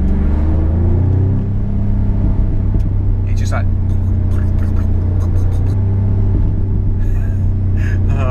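A car engine revving hard in second gear, with a loud, steady rumble close by. Someone talks briefly over the engine noise.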